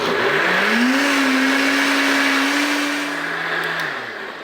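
A blender making sauce whirs steadily at high speed, its motor pitch climbing at the start and dropping as it winds down near the end.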